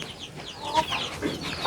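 Hens clucking and chattering nearby in short, irregular calls, with faint farmyard background.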